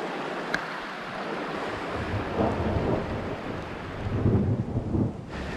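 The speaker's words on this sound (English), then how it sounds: "Although it didn't take long with this kind of rain and occasional hail" Heavy rain with occasional hail pours down at a rocky creek campsite, a dense, continuous wash of noise with low rumbling swells, fairly loud and steady with no talk.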